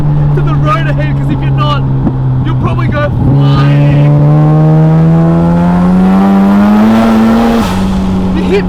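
A 730 hp turbocharged 13B rotary engine in a Mazda RX7 FB revs up hard and loud, its steady droning tone climbing in pitch through a long acceleration, dipping briefly at a shift, then pulling upward again, with a faint voice underneath.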